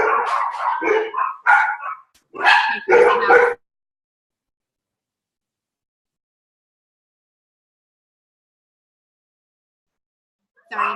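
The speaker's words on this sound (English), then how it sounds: "My dogs are barking." Dogs bark in a quick cluster of loud, close yips and woofs over the first few seconds, go silent for a long stretch, then let out one more short bark at the end.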